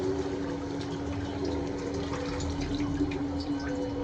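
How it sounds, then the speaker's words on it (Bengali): Broth is poured into chicken curry cooking in a pot, a steady soft gush of liquid over a continuous low hum, quiet and unbroken for a few seconds with no talking. "তো এখন আমি ঝোলটা দিয়ে দিচ্ছি পরিমাণ মতো।"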